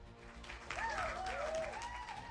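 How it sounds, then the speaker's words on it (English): A crowd of guests cheers and claps in a soft, steady wash of applause, fairly distant and muted, with a few whoops rising above the clapping. "Hundreds of guests cheered and clapped"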